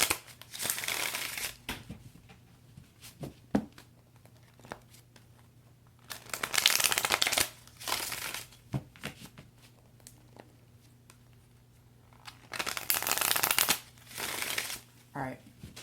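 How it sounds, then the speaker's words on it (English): Tarot Illuminati deck cards being shuffled in several long, loud bursts of riffling and crinkling, separated by quieter pauses with a faint steady hum underneath. "I'm just going to shuffle this one more time for good measure"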